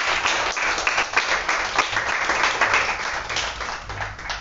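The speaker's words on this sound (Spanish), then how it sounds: "Ustedes, por favor, pueden aplaudir y dar la bienvenida" A gathered audience applauds to welcome the visiting Indian ambassador, Sri Dinesh Bhatia: lively, close clapping from many people with distinct individual claps standing out, sustained for over four seconds.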